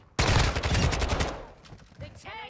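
Video game gun firing a rapid burst of loud sharp shots that fades into scattered quieter cracks, with a voice briefly audible near the end.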